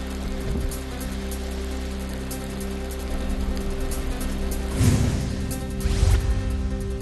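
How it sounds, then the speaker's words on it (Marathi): Heavy downpour over the city of Chhatrapati Sambhajinagar, a steady broadband wash of rain, with louder gusting surges near the five- and six-second marks. "छत्रपती संभाजीनगर शहरामध्ये मुसळधार पाऊस."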